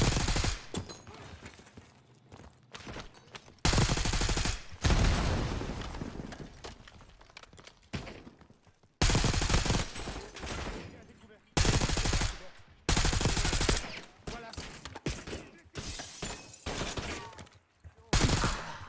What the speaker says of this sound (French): Baker, ouvrez le feu.